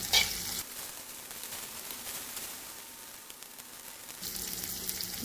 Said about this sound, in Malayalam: ഇഞ്ചി വെളുത്തുള്ളി പേസ്റ്റ് ഇട്ട് കൊടുക്കാം ഇനി നമുക്ക് നാല് പച്ചമുളക് നടുവേ കൊളർന്നതിട്ട് ഒന്ന് വഴറ്റി കൊടുക്കാം